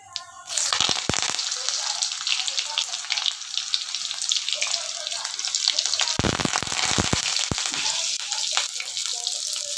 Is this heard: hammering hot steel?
no